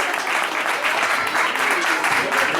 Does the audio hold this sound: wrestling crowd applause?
yes